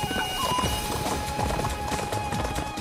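A horse gallops across the battlefield in the video game Warriors Orochi 4, a fast, continuous clip-clop of hooves, loud and close, with game background sound underneath.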